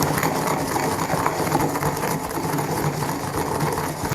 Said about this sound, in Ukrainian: Засипаю їх в ступу. Тепер все подрібнюю.